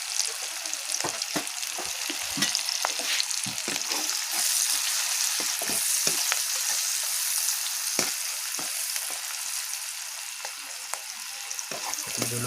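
Onion and chili sizzle steadily in a pan as turmeric powder is stirred in for a taro curry, a continuous close frying hiss broken by scattered spatula scrapes and clicks, with no talking.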